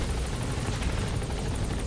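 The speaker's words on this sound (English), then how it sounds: "Chopper's touching down." Helicopter touching down in Metal Gear Solid V: The Phantom Pain, a loud steady rotor roar with fast blade chop filling the whole moment, no voices.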